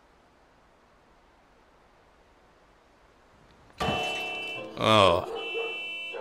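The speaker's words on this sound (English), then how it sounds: "did she have to land on the car and set up the alarm too?" A car alarm in the horror adventure game The Cat Lady starts suddenly after a quiet stretch, loud and sustained, with a brief louder surge partway through and a short exclamation from a person.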